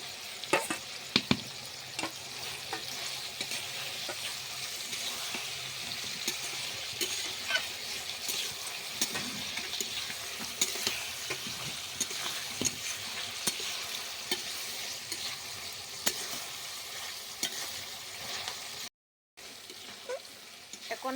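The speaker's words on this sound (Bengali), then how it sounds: "সব একে একে দিয়ে ভালোভাবে একটু ভেজে নেব।" Onion, capsicum, tomato, crushed ginger-garlic and dried chilli fry in hot oil for a chilli soya dish, with a continuous close sizzle broken by frequent scraping and clacking as a spatula stirs the pan.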